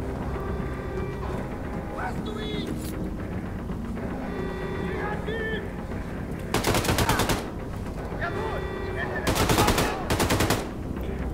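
Gunfire in the video game Wolfenstein II: The New Colossus, two sharp bursts of rapid automatic fire rattling over a busy background of game effects and music, with someone talking between them.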